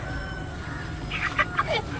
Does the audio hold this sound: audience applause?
no